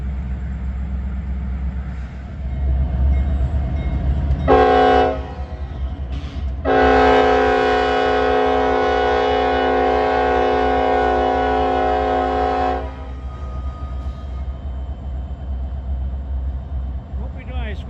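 A Norfolk Southern freight train idles nearby in Princeton, Indiana, its rumbling engine steady as the horn blasts loudly, first a short burst then a long sustained blow lasting several seconds before fading back to the low diesel drone.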